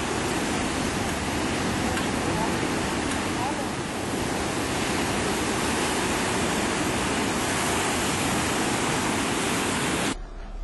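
Sea waves crash continuously on the coast at Uchila near Kotebali, a loud, steady roar of surf that fills the whole stretch with no voices, cutting off abruptly near the end.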